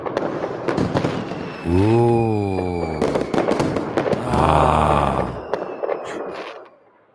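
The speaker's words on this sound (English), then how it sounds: "can we try the fireworks thing again?" Fireworks sound effect played on a radio talk show: whistling rockets rise in pitch then crackle and pop, two volleys in succession, with a voice briefly reacting in between.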